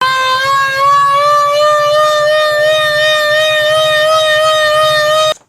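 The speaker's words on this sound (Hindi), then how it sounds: "ये सायरन चल रहा है आजकल।" An old civil defence siren in Punjab sounds a steady, loud, unbroken tone with rich harmonics for about five seconds, a faint low pulsing beneath it, then cuts off abruptly.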